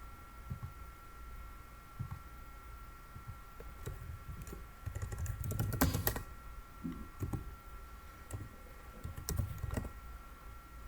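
Router commands typed on a computer keyboard: a steady run of quiet, close key clicks with short pauses and a brief flurry of harder presses in the middle, no talking.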